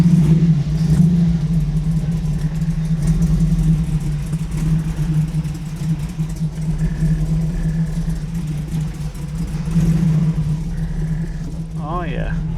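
A 1937 Buick street rod with a freshly installed BluePrint Engines 350 crate engine idles with a steady low rumble, close and loud, while someone talks over it and a brief squeak sounds near the end.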